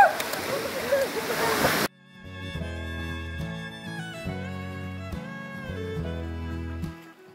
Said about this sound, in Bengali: আমরা ঝর্ণা আসছি, ঝর্ণা